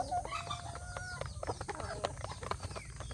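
Free-range village hens on a small farm, with soft clucks and short calls repeating through a busy barnyard scene, moderately close, alongside other bird chatter.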